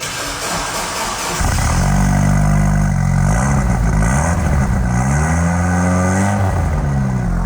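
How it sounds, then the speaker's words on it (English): Mitsubishi Evo rally car with a 4-cylinder turbo engine and aftermarket exhaust, idling then revving up repeatedly in rising and falling blips, loud and close with no talk. "So that's how a rally car should sound."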